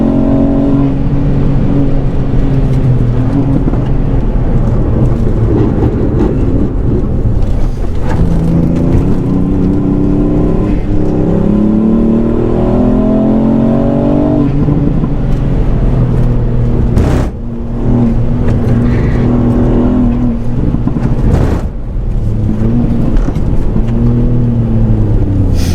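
A PUMASPEED-tuned 290 bhp Ford Fiesta ST Mk8 with a three-cylinder engine and hybrid turbo accelerates hard on a race track, its loud, close engine note rising steadily through the revs with brief dips at gear changes.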